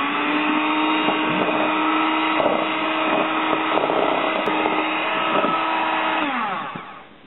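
A handheld electric mixer whirs steadily as it beats egg yolks with a cup of sugar into an eggnog base, a continuous motor hum with slight pitch wobbles that cuts off near the end.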